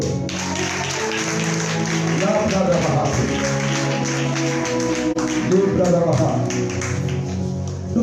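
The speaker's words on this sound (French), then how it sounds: "Acclamez pour eux." A church congregation breaks into sustained applause, steady clapping filling the room for several seconds, with music and voices layered underneath.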